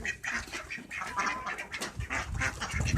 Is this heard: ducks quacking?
yes